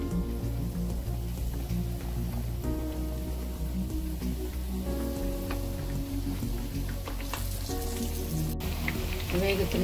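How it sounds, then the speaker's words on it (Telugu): Pappu chekkalu, lentil crackers, frying in hot oil, a dense steady sizzle and crackle throughout, close up, with a faint tonal hum beneath. "ఇప్పుడు నూనె వేడి చేసుకుని నూనెలో వేసుకోవాలి."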